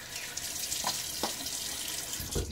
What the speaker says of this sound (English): All right, a little water on my face again.